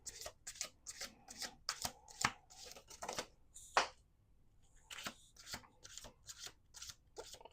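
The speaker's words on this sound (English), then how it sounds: "we're going to do 2 more shuffles" Tarot cards being shuffled by hand, a close, quiet run of quick riffling bursts with short pauses between them.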